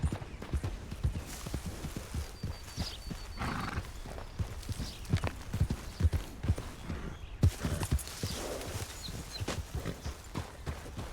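Horses plodding with steady hoof clip-clops and an occasional whinny in a western roleplay video game, a medium-loud rhythmic walk that continues throughout.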